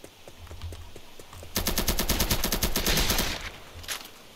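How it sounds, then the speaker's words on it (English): Rapid automatic gunfire from a gun in the Roblox Evade game rattles out in a dense, loud burst lasting about two seconds. A few softer scattered shots come before it, and one more comes after. "I'm just gonna unleash my gun on everybody I see"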